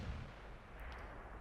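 A single tank gun shot in World of Tanks, a deep low boom right at the start that rolls off into a steady rumbling battlefield background, with no talk.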